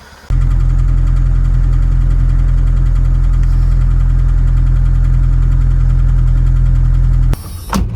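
A Dodge Dakota engine with newly replaced lash adjusters idles steadily outdoors after starting abruptly, a loud, even rumble with faint ticking, cutting off near the end amid wind noise.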